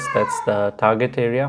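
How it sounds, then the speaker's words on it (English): A cat meows in several drawn-out, tonal cries, close and clear, alternating with a person talking. "If you hear the sounds, that's my cat singing."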